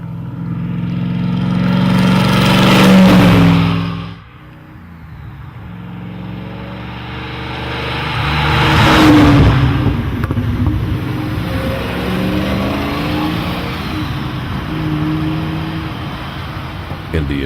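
Maserati Ghibli SS two-seat sports car engine roaring loudly while driving, with two strong rising revs and a throaty, harmonic drone between them; a brief drop-off separates the pulls.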